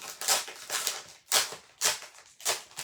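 Stampin' Up! 12-inch specialty designer series paper being pulled from its plastic packet, a quiet run of crinkly rustles coming in about six short bursts.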